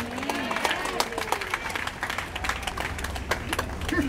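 Dense, continuous applause from a church congregation at a Sunday service of a Hong Kong mission, with people talking over the clapping throughout.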